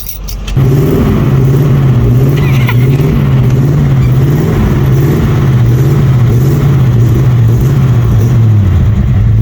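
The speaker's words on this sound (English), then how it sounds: "Hopefully it's going to start and stay running." A faulty car with running problems cranks briefly, then catches and settles into a loud, steady idle with a slightly uneven, wavering drone close by.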